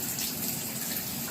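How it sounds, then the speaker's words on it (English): Tap water from the mains supply runs steadily from a faucet, a close, continuous broadband gush with no pauses or voices. "So I'm going to turn the water on."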